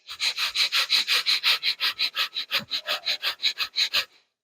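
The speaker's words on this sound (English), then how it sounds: "So while we're doing this, we're going to do breath of fire." A person performs breath of fire, the rapid forceful yoga breathing, producing about twenty quick, evenly spaced, loud, close-up nasal puffs in a steady rhythm before stopping abruptly.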